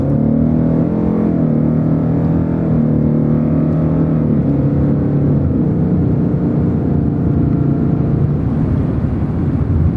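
A car pulls away at full throttle from inside the cabin, its engine rising in a loud, sustained drone with climbing pitch and a steady road-and-wind roar beneath.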